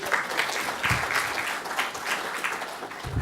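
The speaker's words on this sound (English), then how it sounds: "let's give everyone just a quick one more round of applause for everybody" Audience applause at a WebRTC developer meetup in Barcelona, a steady wash of many hands clapping that fills the room and holds for several seconds without a break.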